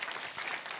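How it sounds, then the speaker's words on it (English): Dense burst of clapping from a crowd, a brief wash of applause. "a round of applause"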